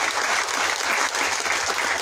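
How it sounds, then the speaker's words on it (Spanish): An audience applauds steadily and loudly at the inauguration of a municipal sports complex in Nativitas, a dense continuous wash of clapping that fills the whole moment. "un aplauso para todos ustedes"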